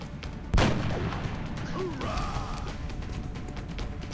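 A single sharp gunshot from XCOM: Enemy Unknown rings out once near the start, loud and close, then decays into a low rumbling game ambience with faint tonal effects.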